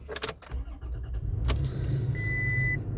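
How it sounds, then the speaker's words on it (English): A 2022 Toyota Tacoma SR5 truck with a standard key starts up: a few clicks and key rattles, a brief crank, then the engine catches into a low steady idle while a thin dashboard chime tone sounds. "So let's get the vehicle started."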